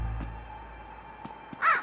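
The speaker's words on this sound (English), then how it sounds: "That menacing crow." A menacing crow caws once in Luigi's Mansion 3, a short harsh call near the end following a low steady game ambience with a few faint clicks.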